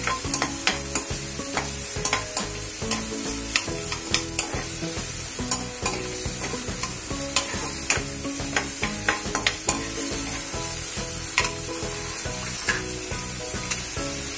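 Spinach for palak paneer sautéing in a pan with garlic, a steady sizzle and fry broken by frequent sharp scrapes and stirring clatters of a spoon against the pan, close and continuous with no talking.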